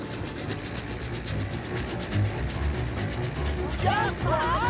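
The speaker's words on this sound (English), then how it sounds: "Runaway train!" A cartoon runaway train rumbles and clatters steadily with rhythmic mechanical chugging. Excited cartoon voices talk over it, and a whistle-like squeal rises near the end.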